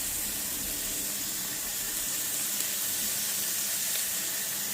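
Bacon frying in a pan, a steady dense hiss of sizzling fat held at a constant moderate level, with no talking.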